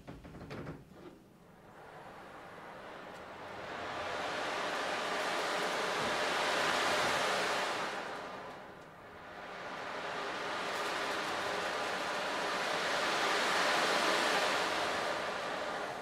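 Broad rushing surf swells and recedes in two long waves, a steady roar of water with no voices over it.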